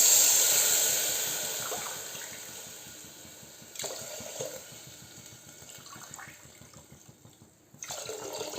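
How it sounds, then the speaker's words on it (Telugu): Water pours steadily into a pot of rice for temple-style prasadam, a continuous splashing gush that fades slightly midway before a louder stream resumes near the end. "వాటర్ పోయాలండి."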